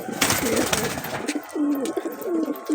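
Allahabadi Chini Kaldom pigeons give soft, rolling coos, several throaty phrases in a row after a brief burst of rustling, heard near and clear without any voices.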